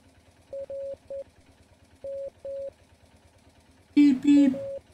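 Morse code beeps from the video game Martha is Dead, a steady tone keyed on and off in short and long pulses over a low hum, followed by a louder burst of talk near the end.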